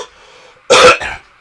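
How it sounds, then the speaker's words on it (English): A man gives a single loud, harsh cough, a short burst with a softer follow-up, close to the mic after a brief quiet stretch with faint background hum. "I'm trying to keep my cough to a minimum"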